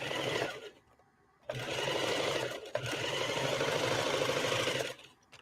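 A sewing machine stitches through a heavy, shaggy fur coat, running in bursts with a pause near the start and a brief break midway, motor hum steady and close with no talking.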